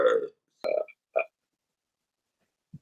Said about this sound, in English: I burp when I drink beer.